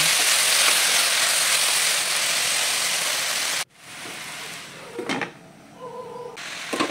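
Pechay leaves sautéing in a pan give a loud, steady sizzle that cuts off abruptly partway through, followed by quieter scraping and a few soft clinks.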